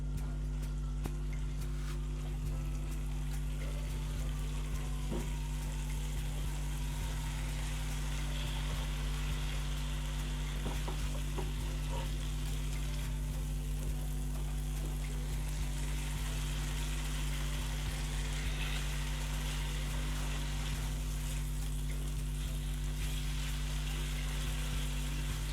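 Boiled mutton frying in cooked masala in a pan for Lahori mutton taka tak, a steady, faint sizzle with a constant low hum beneath it and no talk.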